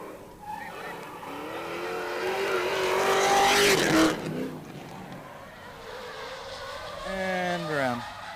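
A drift car lapping a drifting competition course, its engine revving hard and rising in pitch while tyres squeal through the slides, with a loud burst near the middle and a commentator talking over the noise.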